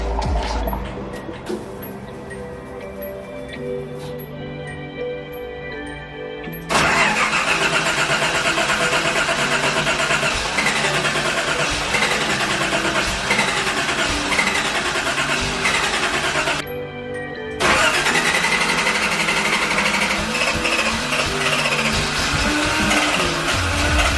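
A Nissan R32 Skyline's engine grinds and cranks in two long, loud bursts as it fails to start, with a quieter stretch of background noise before and between the attempts.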